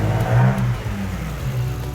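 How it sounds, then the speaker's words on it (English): A Lexus IS200 engine fitted with a piggy-back Haltech ECU and a modified throttle body revs up loud and close, a rising mid-pitched roar that eases back and surges again over two seconds. "It's a bit fluffy when you rev it."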